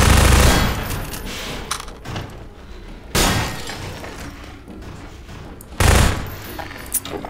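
Rapid gunfire bursts from the Half-Life 2 Episode 1 video game, with sharp shattering impacts and loud volleys near the start, around three seconds and near six seconds, over a steady noisy background.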